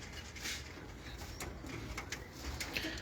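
Pigeons coo in a Bahawalpur loft, soft low rolling calls repeating over faint background noise, close but quiet, with no one speaking.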